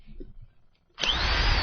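A power drill plugged in inside a radio studio starts abruptly and then whines loud and steady, close to the microphone, after a stretch of near silence.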